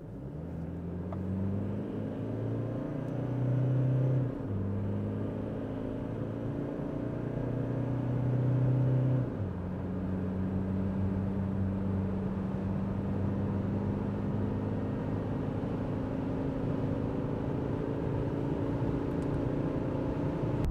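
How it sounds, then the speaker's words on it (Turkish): A 2024 Toyota Hilux pickup, roughly two tons, accelerates hard from about 40 km/h during a test drive. A steady, loud engine rumble climbs in pitch with audible gear changes and continues without pause, with no talking over it. "Bir de ara hızlanmasına bakalım hemen. 40'la gidiyorum. Ara hızlanma bastım."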